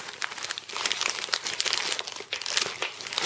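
Crinkly plastic packaging of an H bandage being handled close up, with continuous rustling and crunching and no speech.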